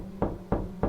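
Three sharp knocks on a door in steady rhythm, close and distinct, set during a nighttime brownout in a residence.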